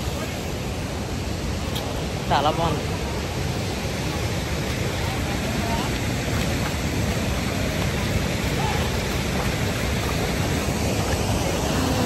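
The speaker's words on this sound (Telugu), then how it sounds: "కొల్లూరు వాటర్ ఫాల్స్కి వచ్చాక." Polluru (Kolluru) waterfall in Andhra Pradesh roars with rushing water during rain, a dense, steady broadband hiss filling the scene, while someone briefly speaks over it.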